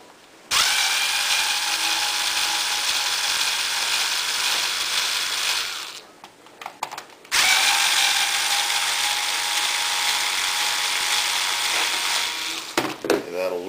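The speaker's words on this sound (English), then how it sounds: "I need to take the screws out." Power screwdriver backing screws out of a Remington Supersonic hairdryer, a loud steady whirring buzz held for several seconds, a brief pause, then a second long run, close up.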